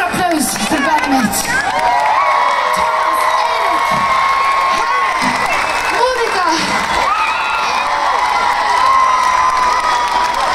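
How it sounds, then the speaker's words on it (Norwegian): A concert crowd at Stavernfestivalen in Norway cheers, whoops and applauds the band loudly and continuously, with high shouts and screams rising above a steady wash of clapping. "Kan dere gi en stor applaus for bandet mitt?"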